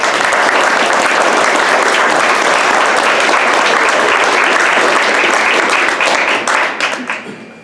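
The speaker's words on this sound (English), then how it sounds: "I want to give them a big round of applause." Audience applause at a welders' graduation ceremony: dense, steady clapping from a large crowd filling the room for several seconds before tapering off near the end.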